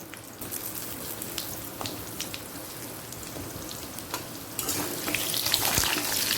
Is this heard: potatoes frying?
yes